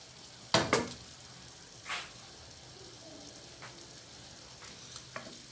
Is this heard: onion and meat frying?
yes